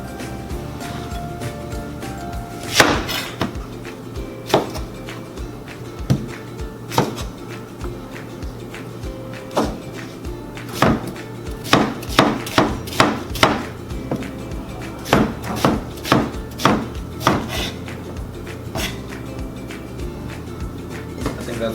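Onions and vegetables chopped on a cutting board for soup, sharp knife knocks landing singly at first and then in quick bursts, close and distinct with no talk.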